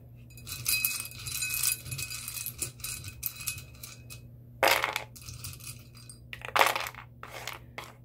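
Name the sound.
small metal letter charms jingling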